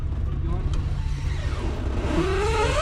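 A vehicle inching forward over a berm, a steady low engine rumble up close with a rising note near the end, under people talking.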